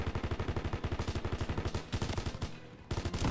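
Rapid, loud bursts of machine gun fire in Call of Duty: WWII, in quick regular rhythm, pausing briefly before resuming, with game-like punchy gunshots up close.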